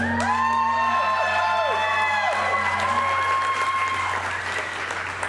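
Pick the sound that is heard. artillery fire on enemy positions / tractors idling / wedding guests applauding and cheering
wedding guests applauding and cheering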